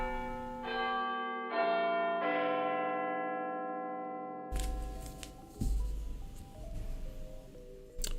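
A resonant bell formerly used as a doorbell rings several overlapping struck tones that ring out and decay, followed by clattering handling noise and further faint ringing, with no talking.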